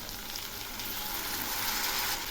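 Potatoes and tender ridge gourd fry in hot oil, giving a soft, steady sizzle and hiss that carries on evenly without any talking.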